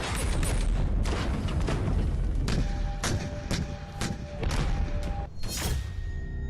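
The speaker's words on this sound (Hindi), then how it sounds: "पाकिस्तान बॉर्डर पर गोले चलने लगे।" Artillery shells firing at a border with Pakistan: a dense run of loud booms and sharp blasts, several strong bursts spaced through the clip over a continuous rumbling din, no voices.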